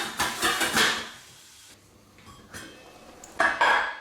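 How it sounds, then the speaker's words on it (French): A lid clatters onto a pot of mussels with a couple of close metallic knocks and rattles, followed by a quieter pause and another brief clink. "Je mets le couvercle."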